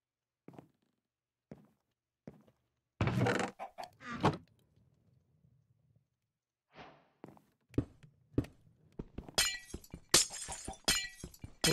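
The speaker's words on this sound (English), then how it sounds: "I hate the sound of glass breaking" Glass shatters repeatedly in a Minecraft survival world, bursts of crisp breaking alongside blocky footsteps and thunks, the breaks clustering in a rapid run near the end.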